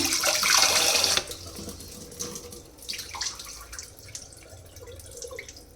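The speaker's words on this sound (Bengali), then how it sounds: "তো চালটা ধুয়ে নিলাম" Rice being rinsed in a kitchen: a strong rush of running tap water at first, then softer sloshing, dripping and swishing of grains and water in a pot, close and without speech.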